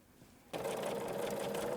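A sewing machine starts abruptly and runs at a fast, steady stitching whir through fabric for a scrappy coffee mat, close and continuous after a brief quiet start.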